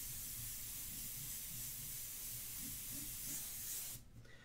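An airbrush sprays India ink in a steady close hiss for about four seconds before cutting off abruptly.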